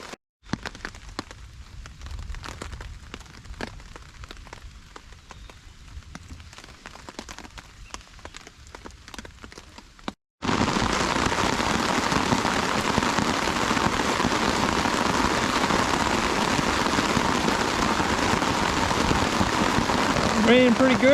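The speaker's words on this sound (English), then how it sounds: "we are sitting in our hammock, all set up under the shelter, and it is continuing to rain" Rain falls on a tarp shelter strung over a hammock at a campsite, a soft patter with scattered drops at first, then a much louder, dense downpour hissing steadily on the tarp.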